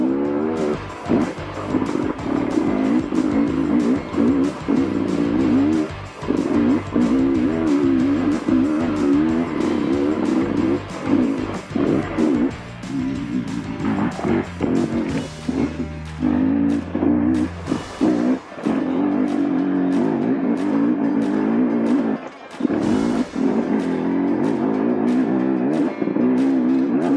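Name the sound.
2023 Beta 300rr dirt bike with new exhaust riding up a hill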